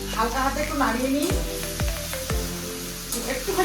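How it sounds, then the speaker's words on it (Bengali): Spiced cabbage is stirred gently in a hot pan over a constant sizzle, with three sharp scraping knocks of a spatula in quick succession midway; there is no speech. "হালকা হাতে একটু নাড়িয়ে নিই"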